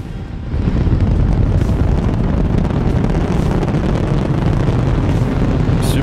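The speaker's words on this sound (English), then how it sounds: "10, 9, ignition sequence start." A rocket engine ignites and the rocket launches, a sudden, massive low roar that swells within the first half second and then rumbles on, loud and continuous, with a rough buffeting quality and no voice over it.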